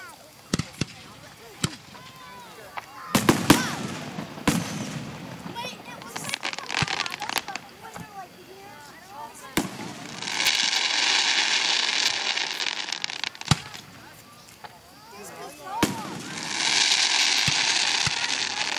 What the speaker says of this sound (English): thank you, God, for the man who created fireworks